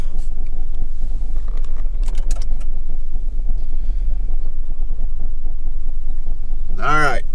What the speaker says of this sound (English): So first thing we have to do is lock it in 4-wheel drive.